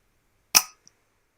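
A single shot from an FX Impact M3 air rifle at a rabbit: one sharp, close crack that decays quickly, followed by a faint tiny tick, in otherwise near silence.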